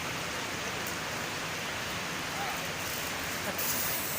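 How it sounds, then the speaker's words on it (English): Steady broadband rushing of a waterfall near the full-flowing Kaveri River at Hogenakkal, a continuous wash of white-noise roar with no breaks, fairly loud and close. "That fall sound I can hear, it is maybe somewhere that side."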